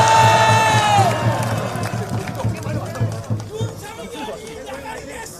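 Audience applause and cheering at a political rally of a Korean civic movement in Gyeonggi Province, a broad wash of clapping mixed with crowd chatter that follows a voice heard at the start.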